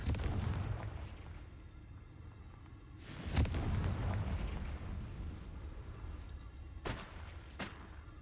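Confringo spell explosions in a wizarding video game: deep booming blasts with rumbling tails, two or three heavy bursts over a low continuous drone.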